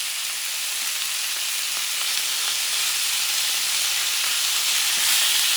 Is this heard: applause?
no